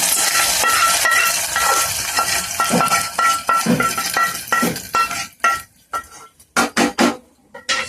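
Lentils tossed into a hot onion tempering for palakura pappu and stirred in the pan, giving scraping and clinking of a utensil against metal with sizzling, loud and continuous at first, then breaking into short separate strokes.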